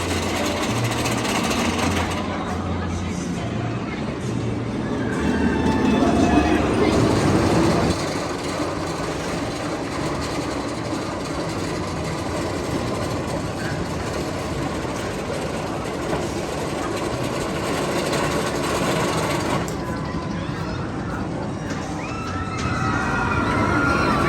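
Twisted Timbers wooden roller coaster at Kings Dominion running, a long, loud, continuous rumbling roar of the train on the track with wind noise and faint riders' voices throughout.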